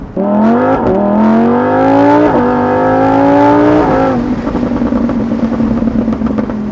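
A Lamborghini Huracan EVO fitted with a RYFT exhaust, heard from close by as its engine revs climb through two gear changes with loud rising howls, then settle into a steady, rumbling cruise.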